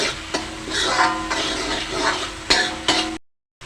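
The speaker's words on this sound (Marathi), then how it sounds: "तोही कांदा आणि टोमॅटो चांगला भाजा गॅस थोडा फास्ट केलेला आहे" Chopped onion and tomato frying in a pan over fairly high gas, a steady busy sizzle with a few sharp scraping stirs, then a sudden cut to silence near the end.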